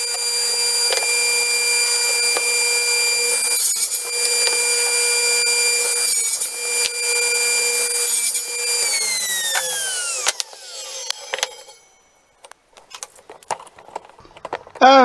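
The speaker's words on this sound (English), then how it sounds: "Here I'm cutting the cross members for the side pieces of the shoe rack." A power saw cuts wooden cross members for a shoe rack, giving a steady high whine with short repeated cuts, then spinning down and stopping, followed by a few faint knocks and handling noises.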